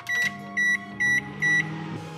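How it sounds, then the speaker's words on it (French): A microwave oven heating chocolate hums steadily while four evenly spaced electronic beeps sound close by, the keypad tones ringing over the low running drone. "Et je vais mettre au micro-ondes 2 minutes, je crois."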